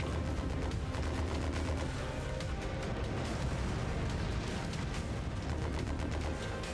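Dense, continuous gunfire and heavy weapon blasts in the mech combat game Mechwarrior 5, a loud unbroken barrage of rapid shots and booms filling the whole stretch without any speech.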